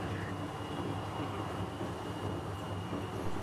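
Riding the Wuppertal Schwebebahn suspension railway: a steady, moderately quiet rumble and whine of the hanging car travelling along its elevated track, continuous throughout with no talking.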